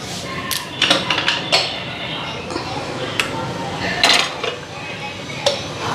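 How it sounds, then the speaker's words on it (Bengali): Pressure cooker being placed on a kitchen stove: sharp metallic clanks and knocks of pots and a lid in scattered bursts, close by, with a voice speaking at times in between. "প্রেশার কুকারটা বসাই দিয়ে নি"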